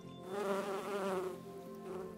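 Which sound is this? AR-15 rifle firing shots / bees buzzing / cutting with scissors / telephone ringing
bees buzzing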